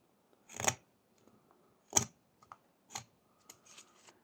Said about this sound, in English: I cut from two opposing sides to create this kind of a V shape